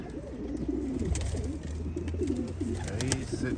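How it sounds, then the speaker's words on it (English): Pigeons coo softly and repeatedly at a backyard feeding spot where sparrows also come down to eat, with sharp pecking and scuffling sounds scattered through the cooing and nobody speaking. "he's sitting over here just watching my pigeons and the little sparrows that are coming down to eat"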